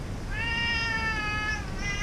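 A small cat meows twice, a clear drawn-out call followed by a shorter one, close by over steady low background noise in a rain-flooded room on Koh Tao island.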